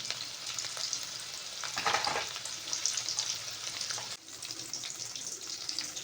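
Hot refined oil sizzles and crackles steadily in a pan while tempering for fish curry, a close continuous frying hiss with a brief stirring swell midway.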